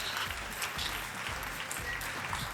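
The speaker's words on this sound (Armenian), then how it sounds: "ծափարությունները նրանց" Audience applause on an Armenian pop music TV show stage greets two singers, a steady, dense wash of clapping holding at even loudness throughout with no voices over it.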